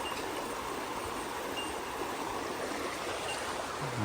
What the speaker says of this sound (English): So I was crossing over this little stream.